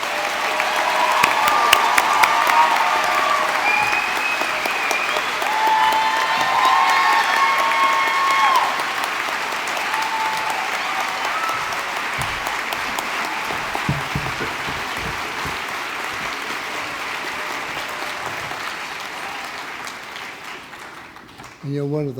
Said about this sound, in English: Let's have all the graduates stand again so we can give you all another round of applause.